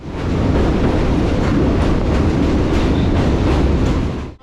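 A moving passenger train rumbles loudly and steadily, with a dense rolling clatter of wheels on track heard from on board, cutting off abruptly at the end.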